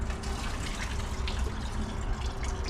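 Coolant drains from a radiator being removed from a right-hand-drive Eunos Miata turbo build, a steady trickling, splashing pour into a bucket with no voices over it.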